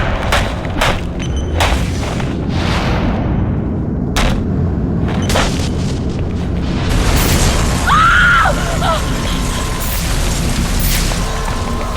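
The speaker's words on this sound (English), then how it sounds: "Source of explosion was an oil truck on the bridge surface." A series of heavy booms and blasts from an oil truck exploding on a bridge in Batman: Arkham Origins rumble through a loud, chaotic scene, with sharp impacts and crashing debris recurring throughout.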